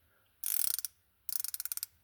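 A reversible gear wrench with an offset head ratchets in two quick bursts of crisp, rapid metallic clicks, close and clear against near silence.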